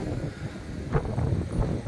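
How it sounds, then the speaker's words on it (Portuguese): Strong wind buffets the microphone in the port town of Katsuura, giving a steady, fairly quiet low rumble with gusty swells and no speech. "Vento, ventania."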